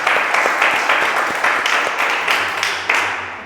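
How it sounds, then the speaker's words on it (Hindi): Congregation clapping at a church worship service, a steady wash of hands with faint rhythmic accents, moderately loud and close, with no talk over it. "जोरदार परमेश्वर के लिए हम तालियां मारेंगे।"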